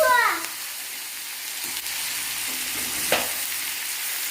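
Chopped tomatoes added to sautéed onions sizzle and crackle in a hot pan for a spicy chutney, a steady close frying hiss with a brief stir and a faint voice at the start.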